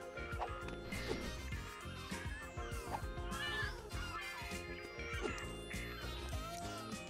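Cat meowing in the LEGO City Undercover video game, several drawn-out meows rising over a busy game soundtrack with music and effects.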